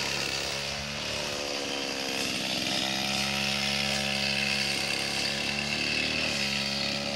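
Motorized brush cutter clearing a hillside pasture, a continuous loud, buzzing engine drone with slight shifts in pitch as it bites into the growth, close by and steady throughout, without talk.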